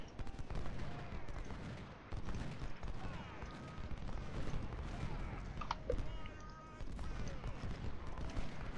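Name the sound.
gunfire in video game Ultimate General: Civil War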